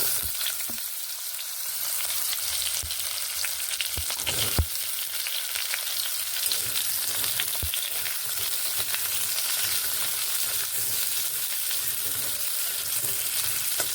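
Pumpkin pieces frying in oil tempered with nigella seeds while being stirred, a loud, continuous close sizzle with occasional scraping knocks from the spoon throughout.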